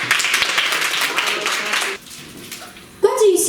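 Audience applause at a secondary school public speaking contest, a dense wash of clapping that cuts off abruptly and drops away, followed by a brief louder burst at the end.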